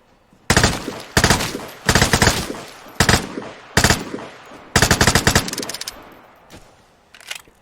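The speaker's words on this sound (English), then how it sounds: "I'm shooting the wood in front of me" Automatic gunfire in the game Vigor, a player shooting into wooden cover: loud, close bursts of rapid shots in about seven separate volleys, spaced by brief pauses, with no talking.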